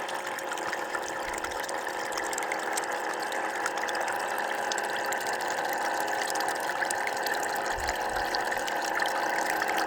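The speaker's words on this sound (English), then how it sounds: "this water's coming out nice" Water flows steadily through a homemade gutter sluice used to process black sands for gold, a continuous close rushing trickle with a faint pump-like drone underneath and no talking.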